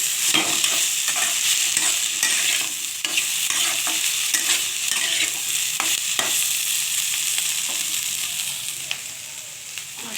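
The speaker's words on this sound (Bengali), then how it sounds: "তো আমি এই ডিমগুলো এর সঙ্গে কষিয়ে নেব" Fish roe cooks with spices in a pan under a continuous sizzle, with repeated scraping strokes of a spatula stirring it at an uneven pace, close and steady for several seconds.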